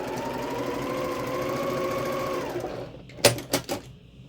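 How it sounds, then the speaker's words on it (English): A sewing machine stitches quilt fabric corner to corner in a steady, close mechanical whir for about two and a half seconds, then stops, followed by a few sharp handling clicks. "We're going to sew corner to corner."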